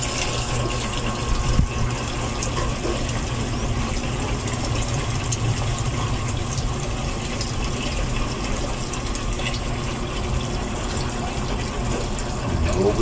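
Water from a janitor fish aquarium drains away in a continuous, steady gushing rush with a faint pump-like hum underneath, unchanging in level throughout.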